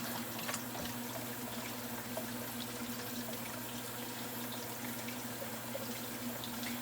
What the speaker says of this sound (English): I'm running some hot water, just a second.